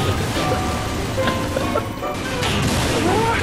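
A firework weapon in the Halo Forge video game goes off in a quick flurry of crashing, popping blasts that run on densely for a few seconds, with faint talk mixed in.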